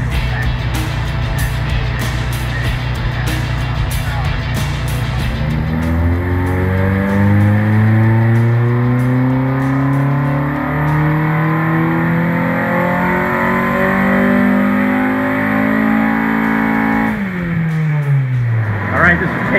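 A turbocharged K23-swapped Honda Civic hatchback runs on a dyno, idling at first, then climbing in one long, loud rising wail through the gears before the throttle snaps shut and the revs drop. Speech is heard at the start.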